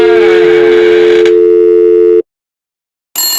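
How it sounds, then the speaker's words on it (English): A telephone not-in-service intercept tone plays: a loud, steady electronic tone held for about two seconds, then cut off abruptly into silence before another bright tone burst begins. "Sorry, the number you have dialed is not in service at this time."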